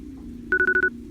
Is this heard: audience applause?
no